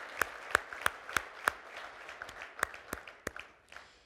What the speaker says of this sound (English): give these guys one final round of applause and thank them for their service